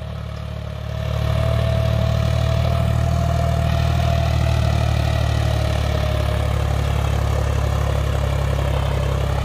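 A John Deere 5050D tractor labours in low fourth gear pulling an 8x8 disc harrow, its engine dropping in rpm under load: a loud, steady, deep diesel drone that holds throughout after a brief swell at the start.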